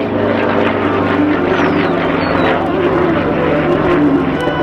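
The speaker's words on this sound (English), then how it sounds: "He's flying an airplane approximately the size of a Stearman" A Stearman-size aerobatic airplane at the 2011 Vidalia Air Show, its propeller engine droning loud and steady throughout under a voice speaking.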